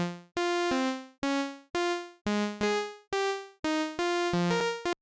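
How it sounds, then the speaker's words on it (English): Ableton Wavetable synthesizer on its default patch plays a short run of bright, buzzy plucked notes. Each note rings with a quick decay, and the melody steps up and down over about five seconds with no voices. "by default, our Wavetable sounds like this."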